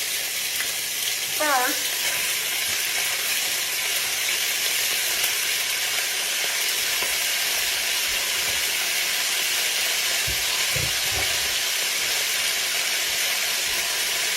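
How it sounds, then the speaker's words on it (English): Steak searing in oil in a hot skillet on a cooker, hissing loudly and steadily up close, with a brief spoken word and a few soft utensil knocks on the pan. "my cooker is already pretty hot, and you want to sear your steak really good"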